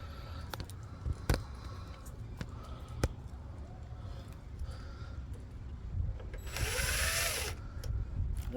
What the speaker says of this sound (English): This screw will come out.